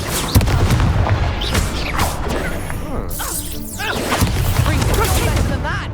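Incendio fire spell cast in the Hogwarts Legacy video game, a burst of booming, whooshing magical blasts and thwacks repeating over continuous game audio, with a voice speaking the incantation.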